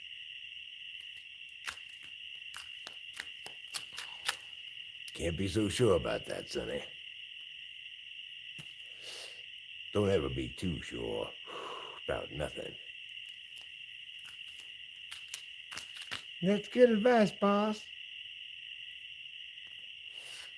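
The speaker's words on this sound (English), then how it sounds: "But the crickets, they're so loud, boss." A constant, high, shrill cricket chirp drones through the whole stretch, while someone talks in short bursts over it.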